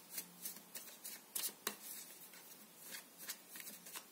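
Tarot cards shuffled and flicked by hand in a repeated series of soft papery riffles and snaps, close and fairly quiet, with no talking.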